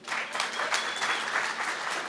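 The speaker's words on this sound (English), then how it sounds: "Everybody give Salim a round of applause" An audience at a talk on AI shortcuts gives a steady round of applause, a continuous patter of many hands clapping at moderate volume, heard from a distance.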